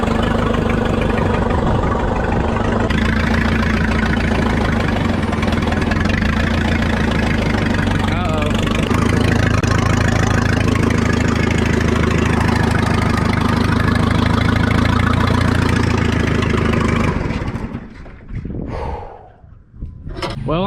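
A Case 580 backhoe's diesel engine idles loud and steady with a low rumbling drone for most of the run, under occasional voices, then cuts out and sputters to a stop near the end.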